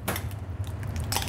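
Butter is mixed with salt, black pepper and thyme in a bowl, producing a few quick scraping and clinking knocks of a utensil against the dish, close and brief, over a low hum.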